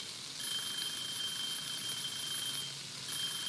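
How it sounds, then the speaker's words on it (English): A kitchen timer alarm in the Cooking Simulator video game rings as a steady, high electronic beeping tone that continues throughout, fairly faint over a hiss of background noise. "Timer's done, timer's done, timer's done."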